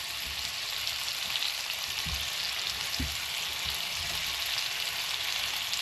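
Lamb shanks for a red wine gravy brown in a hot pan, giving a steady close sizzle with a couple of soft thuds as the meat is moved.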